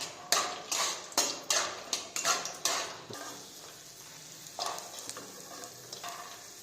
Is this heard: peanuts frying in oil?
yes